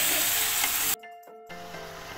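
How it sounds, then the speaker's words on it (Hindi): Chopped tomatoes and chickpeas fry for chole masala in a pan, giving a close, steady, hissing sizzle that cuts out briefly and then resumes more softly. "अच्छी तरह भून लेना है।"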